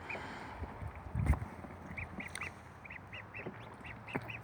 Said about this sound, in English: baby ducks 4 weeks old, it's like teenagers